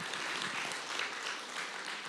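Congregation applause welcoming newcomers during a Sunday church worship service, a steady dense patter of clapping filling the room for a couple of seconds, no talk over it.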